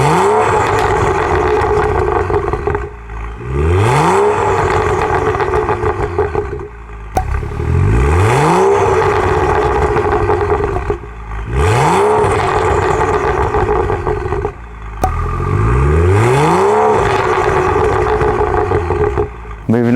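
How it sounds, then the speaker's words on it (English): A Stage 1 tuned BMW M135i with a decat downpipe blips its exhaust in four loud, evenly spaced revs, each note climbing and then dropping back to a rumbling idle, with no voices. "take a listen to this exhaust note"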